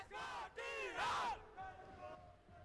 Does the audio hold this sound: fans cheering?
yes